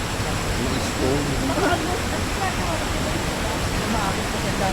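River water rushing over many stones, a loud, steady broadband roar close by, with voices faintly mixed in.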